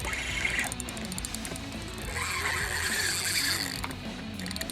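The drag on a fishing reel clicks in a rapid ratcheting buzz as a redfish pulls line out in a bayou, running nearly continuously in bursts at close range with no talk.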